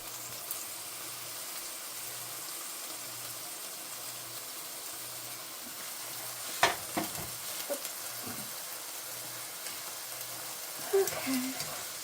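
Pork chops sautéing in a pan for a herbed tomato sauce supper, a steady soft sizzle running throughout, with a few clanks and scrapes from moving the meat around.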